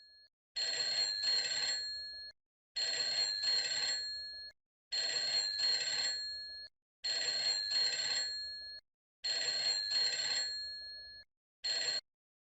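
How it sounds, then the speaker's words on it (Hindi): A telephone rings indoors in a family home in five long repeated bursts of electronic trilling, each about two seconds with short gaps, followed by a brief final burst, loud and close with no talking. "अरे कोई घर में है जो ये नासपीटा फोन उठाएगा"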